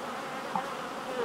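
Honey bees buzz at an open beehive, a close, steady, moderately quiet drone with a single bee passing briefly nearer partway through.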